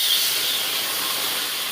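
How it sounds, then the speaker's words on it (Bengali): Water poured into a hot pan of mango pieces for boiling, giving a strong, steady sizzling hiss that fills the whole moment without a break. "আমি আমের প্লাকে সিদ্ধ হওয়ার জন্য জল দিচ্ছি"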